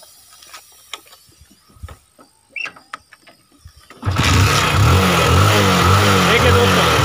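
A motorcycle is started with its silencer hooked to a homemade air pump made from household waste. Quiet clicks and handling noises come first, then the engine catches abruptly and runs loudly and steadily to the end.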